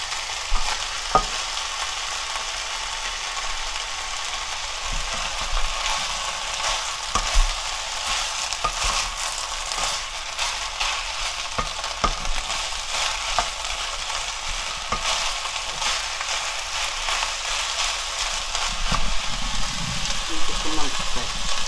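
Seaweed stems are stir-fried in a pan, giving a constant loud sizzle and crackle with occasional scraping and clattering of a utensil against the pan, running steadily throughout.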